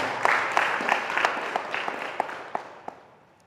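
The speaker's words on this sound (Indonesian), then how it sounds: "Tepuk tangan untuk pemuda." An audience at a youth motivation gathering gives a round of applause, loud and brisk at first, with a few sharp individual claps standing out as it fades over three seconds.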